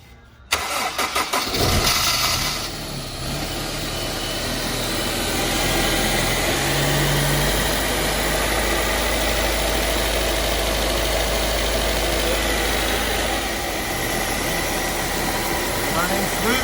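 A Honda S2000 fitted with a Kraftwerk ribbed belt conversion cranks briefly and fires, then settles into a steady, close idle that runs for about fifteen seconds.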